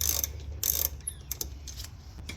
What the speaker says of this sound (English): Go ahead and take the brake line nut off over here. I'm using a 10 mil.